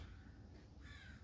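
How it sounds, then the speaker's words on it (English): Crows cawing in a small flock returning overhead, distant harsh calls repeating faintly over a steady outdoor background, the caws growing a little clearer near the end. "Those birds are coming back."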